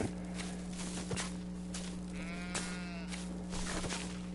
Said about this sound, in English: What's up, little sheep?